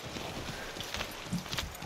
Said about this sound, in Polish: ale zatepczę was koniem. Kopytami konia.